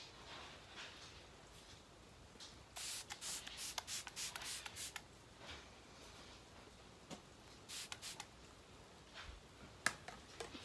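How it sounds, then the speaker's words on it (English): Smashbox setting spray misted over a face in several short, close bursts, interspersed with quieter rubbing and handling sounds. "Now I'm just gonna spray over my face one final time with the Smashbox spray."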